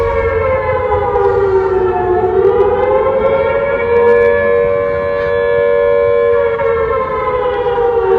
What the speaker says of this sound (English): Emergency siren warning system.